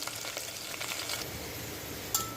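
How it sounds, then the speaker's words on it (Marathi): Onions browning in oil in a pan for Maharashtrian masale bhat, giving a steady soft sizzle with a few light stirring scrapes near the start, alone and fairly quiet. "कांदा झालेला आहे चांगला ब्राऊन आलेला आहे"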